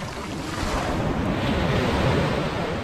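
Sea waves crash steadily at Cherai Beach in Kerala, a continuous broadband roar of surf mixed with wind buffeting the microphone, loud and unbroken with no voices.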